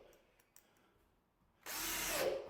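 After a quiet pause with a couple of faint clicks, a power drill whirs up loudly and runs for about a second, driving a screw into a wardrobe panel during fitted wardrobe assembly.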